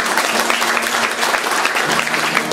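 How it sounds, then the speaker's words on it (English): Concert audience applause for a singer-songwriter: a short burst of steady clapping from the crowd at a live show, with no break. "I don't say that fishing for your applause, but I appreciate it."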